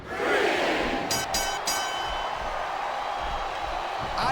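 A crowd roars and cheers loudly and continuously at a WWE SmackDown wrestling video game event, with a burst of whistling or horn-like tones partway through.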